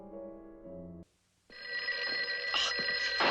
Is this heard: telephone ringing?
yes